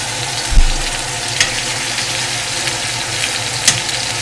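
Chicken breasts laid into a hot pan with garlic and mustard, a thump on contact and then a steady, even sizzle with an occasional clink, no voices.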